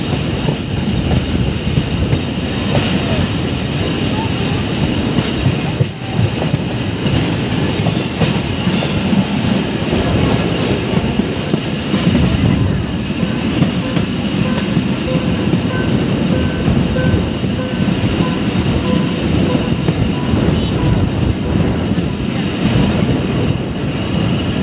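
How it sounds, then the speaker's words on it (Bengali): A train pulls into Singia railway station with a loud, steady rumble of wheels and cars, a continuous close roar with faint squeals and clatter running the whole time. "বন্ধুরা দেখেন ট্রেন চলে আইছে"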